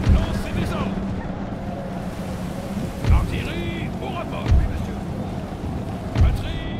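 Heavy rain and thunder in the game Empire: Total War, a constant hiss of downpour with four low thumping booms at spaced intervals and a voice talking over it.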